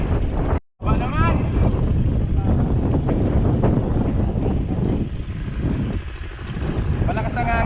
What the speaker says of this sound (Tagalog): Malakas ang hangin, kailangan mong i-adjust.